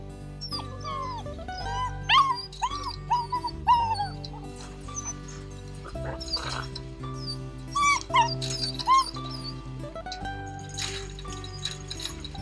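Labrador dogs at a kennel whimper, yip and bark in bursts through the whole stretch, with high whining cries up close and fainter barks further back.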